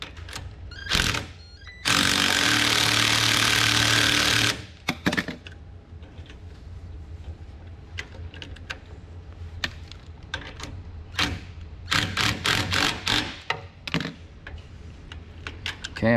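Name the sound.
drill spinning nut onto boat trailer buckle mount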